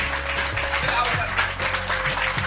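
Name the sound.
audience applause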